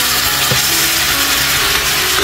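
Spiced cauliflower and potato with peas simmering in a kadai after warm water is poured in, a steady broadband sizzle and bubbling throughout, close and fairly loud, with a few faint utensil knocks.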